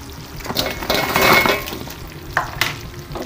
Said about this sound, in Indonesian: kita aduk sampai merata ya